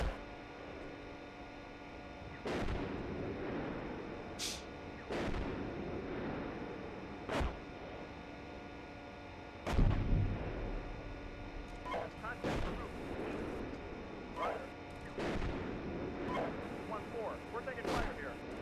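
Tank combat in the Steel Beasts Pro PE simulator, set in a winter operation with CV90 vehicles: booming cannon and artillery shots land every few seconds over a low engine hum, with scattered crackling gunfire and radio chatter between the blasts.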